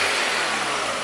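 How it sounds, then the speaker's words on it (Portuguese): A VW AP flex car engine, on a Parati or Saveiro, idles smoothly and steadily up close, with no belt squeal, a continuous even hum filling the whole moment. "Tá aí tranquilo o motor de novo, sem barulho de correia"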